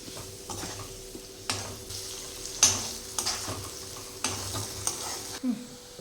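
Paneer roasts in a pan with ghee, oil and plenty of turmeric, giving a soft steady sizzle that a spatula's scrapes and clinks against the metal pan interrupt again and again.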